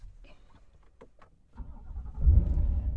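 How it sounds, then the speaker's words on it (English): A 2024 Chevrolet Corvette 1LT engine starting with a push button: faint clicks and quiet cabin sounds first, then the engine cranks and catches into a loud, deep idle that settles into a steady rumble. "So let's lay down inside this car and start her up."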